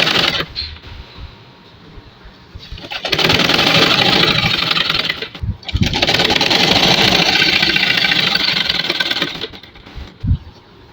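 Sewing machine running in loud sustained bursts while stitching the collar of a kameez with a ban collar, the motor whirring steadily for several seconds, pausing briefly, then running again before stopping.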